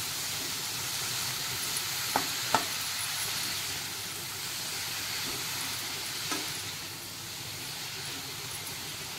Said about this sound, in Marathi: आता त्याच्यात लगेचच आपल्याला चिरलेला पालक घालायचा आहे।